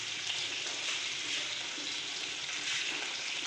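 Potatoes go into a pot of simmering fish curry, giving a soft, steady bubbling sizzle at low volume with no talk.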